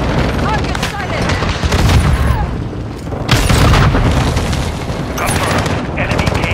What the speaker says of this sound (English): Tossing a dummy grenade!